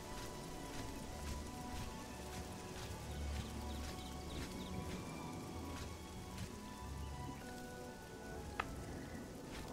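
Rain falls in the video game The Elder Scrolls IV: Oblivion. It makes a steady, soft patter on surfaces, continuous and fairly quiet, with faint tonal background sounds mixed in.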